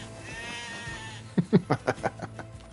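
Sheep in NieR Replicant let out a series of about six short, rhythmic bleats, close and fairly loud, following a steady hum of game ambience.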